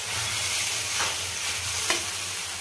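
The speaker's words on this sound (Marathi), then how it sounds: "तर आता या वेळेला आपल्याला छान मिक्स करून घ्यायचे आणि कोथिंबीर टाकून घ्यायची याच्यावर" Steamed sabudana is mixed in a pan, a continuous sizzling hiss with soft scraping strokes of a spoon, close and even throughout.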